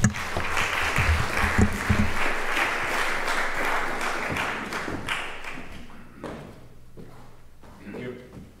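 Audience at a remembrance gathering clapping after a speaker, a loud burst of many hands that tapers off over several seconds, followed by a voice speaking over scattered thumps as the applause dies away.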